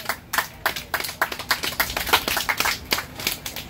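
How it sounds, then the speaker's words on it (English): A small group claps, scattered, irregular hand claps that run steadily throughout, fairly close with no voices. "Give them a round of applause."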